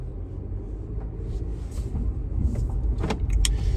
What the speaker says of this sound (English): I'll do a few revs for you guys so you can kind of hear how it sounds at the moment